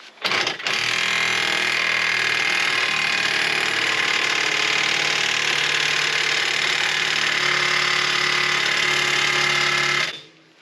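DeWalt impact wrench hammering on a stuck, mushroomed hex head at a rugged mountain ranch, one loud, continuous rattling burst lasting about ten seconds, close by, then stopping abruptly.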